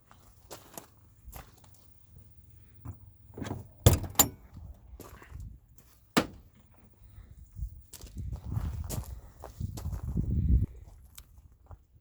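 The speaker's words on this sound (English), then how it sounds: "let me show you first how the door opens." An RV entry door swings open on a gas strut door opener, giving scattered knocks and clicks with a sharp latch snap near the start, then a rising hiss and rumble of the strut extending toward the end.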